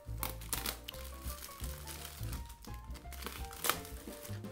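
Parcel packaging with books inside being carefully opened, with close, quiet crinkling and rustling in irregular bursts and soft handling noises.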